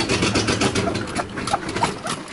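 A Mercedes W123 limousine wagon engine, said to have an exhaust leak, runs steadily after cranking over, a loud, close, rough idle with uneven pulsing and no talking.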